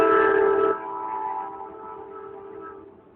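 A train horn blares loudly at night at first, then a steady rail rumble with a lingering tonal hum continues and slowly fades.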